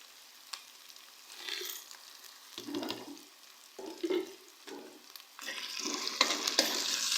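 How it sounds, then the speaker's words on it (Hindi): Onions frying in a pan with whole spices and ginger-garlic paste for a keema and capsicum dish, with soft sizzling, intermittent stirring and scraping, and a brighter hiss rising toward the end. "खड़े मसालों को भी हम अदरक लहसुन के पेस्ट के साथ प्याज में फ्राई करेंगे।"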